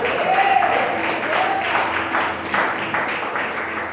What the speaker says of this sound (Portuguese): Pode glorificar o Senhor com palmas e glória a Deus.